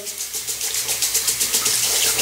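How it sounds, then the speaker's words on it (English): A razor is rinsed under a running tap, giving a steady, close hiss of flowing water with slight splashing pulses and no talking. "I'm going to go ahead and rinse the razor off under the water."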